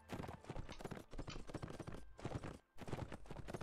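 Horse hooves gallop in quick, steady clip-clop rhythm in the video game Mount & Blade: Warband, loud and continuous with a brief break near the end, with no speech over it.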